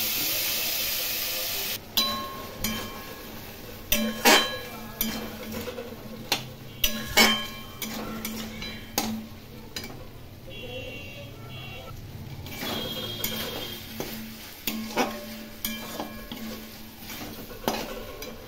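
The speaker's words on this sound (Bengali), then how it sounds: "ভালো করে কষিয়ে নেব।" Taro and prawns sauté in a pan under a steady low sizzle, with repeated loud metal clanks and scrapes of a spatula against the pan at an uneven rhythm, close and without talk.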